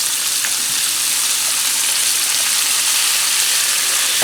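Onions and garlic frying in a skillet, a loud, steady, close crackling sizzle with fine pops that never lets up, and no voices over it.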